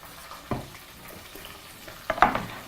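Spicy potato fingers frying in oil in a pan, a soft steady sizzle with a couple of louder stirring scrapes and bursts, close by and without talk.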